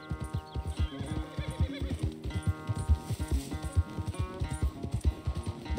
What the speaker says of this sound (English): It's a fast fucking horse.